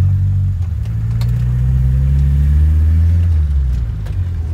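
Turbocharged Chevrolet Chevette OHC with an HKS valve, driven on the street, gives a loud, steady low engine drone that climbs in pitch as it accelerates, heard from inside the car.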